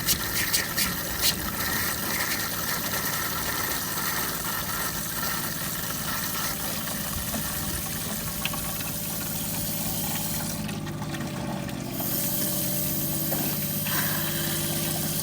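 A camper's water pump runs steadily as a continuous low mechanical drone with a faint whine, close and unchanging throughout, with light clicks and handling noise over it.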